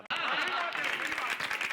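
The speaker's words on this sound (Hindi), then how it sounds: "तालियां तालियां।" A studio audience on a comedy TV set breaks into a brief, dense burst of applause, mixed with overlapping voices and chatter throughout.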